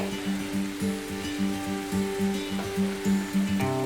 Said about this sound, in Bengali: দেখুন গ্রেভিটা ফুটে উঠেছে।